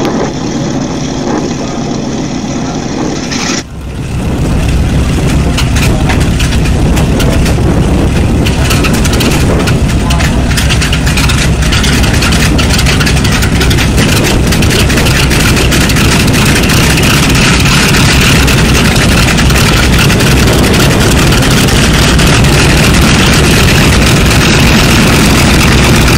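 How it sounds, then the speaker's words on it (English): A B-25 Mitchell bomber's piston engine coughs and catches after a few quiet seconds, then roars loudly and steadily with a rough, throbbing drone that continues throughout. "we're going to watch them start up this engine on this B-25 Mitchell"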